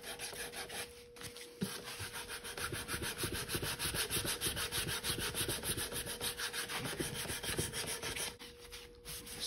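Continuous rhythmic rubbing of 80 grit sandpaper on wood, a centerboard bumper being sanded, close and steady for most of the stretch with a couple of brief pauses.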